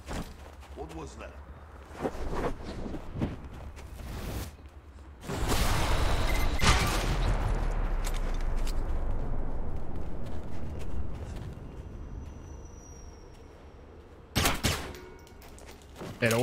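Gunfire in the video game Alpha Protocol comes as a loud, broad burst, with a second sharp report later, heard beneath someone talking over the gameplay.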